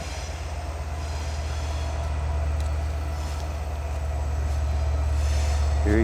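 A train rolls past on tracks beside the Doll's Head Trail, a loud sustained low rumble of railcars with faint clicking wheels that swells slightly as it nears, no talking.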